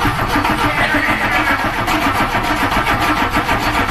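A VW Golf Mk2 with a 1.3 engine cranks over steadily on its starter, a continuous rhythmic mechanical churn heard up close for several seconds with no voices over it.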